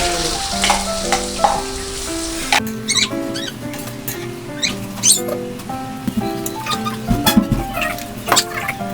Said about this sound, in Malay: kita buat telur dadar